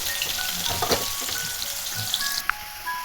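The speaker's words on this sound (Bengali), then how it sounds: "পেঁয়াজটা ভাজা হয়ে গেছে" Chopped onion frying in hot oil with cumin seeds, a steady close sizzle with faint crackles and a few small pops, no talking over it.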